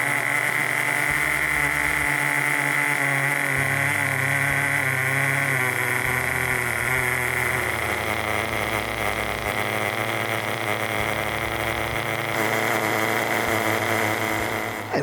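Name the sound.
FTX Torros nitro RC truck engine running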